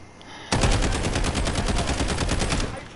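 Sustained automatic gunfire from Call of Duty Modern Warfare erupts abruptly after a brief quiet start, a loud rapid rattle of shots continuing steadily to the end.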